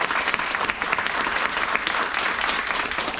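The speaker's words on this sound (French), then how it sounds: "je vous propose aussi donc de chers applaudissements à Ryan" A conference audience applauds a speaker at an AI talk, steady dense clapping filling the room throughout, fairly loud with no voices over it.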